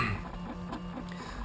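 A Prusa 3D printer running steadily, with a faint low motor hum from its y-axis motor under soft ticking and patter of the moving print head, continuous throughout.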